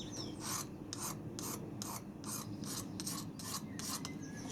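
A metal file sharpens a blade in repeated rasping strokes, about nine evenly spaced bright scrapes close up over a faint steady background hum.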